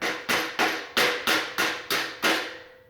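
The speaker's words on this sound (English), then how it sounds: "I don't have a chisel in this case, but a flat blade screwdriver" Flat blade screwdriver used as a chisel, struck seven times in an even rhythm to pare wood edges while making a wine holder, each blow a sharp close knock with a short decay.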